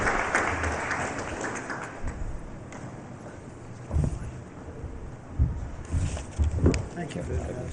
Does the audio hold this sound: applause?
yes